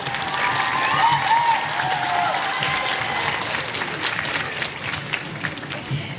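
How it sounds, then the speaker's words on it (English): Students at an elementary honor choir concert give a loud, dense round of applause for their parents, with crowd voices and cheers mixed into the steady clapping throughout. "could I have a round of applause for your parents"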